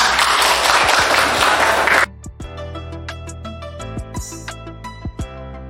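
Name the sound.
classroom applause for a student group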